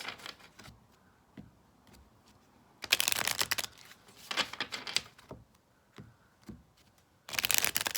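Oracle cards shuffled by hand in several bursts of brisk riffling and flicking, loud and close, separated by quieter pauses with small handling sounds.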